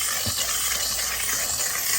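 Steady hissing of a steam cleaner passed over a fabric car seat in a 2021 Toyota Corolla, a constant broad wash of steam noise, loud and close, with no speech.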